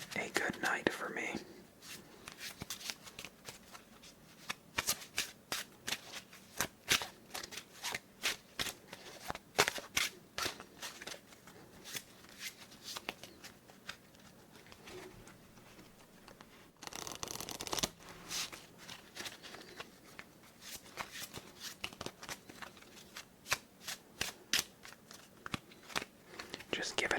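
Playing cards shuffled thoroughly in an ASMR solitaire session of Beleaguered Castle, giving repeated close crisp riffles and soft shuffling rustles in steady bursts throughout, with faint whispering beneath.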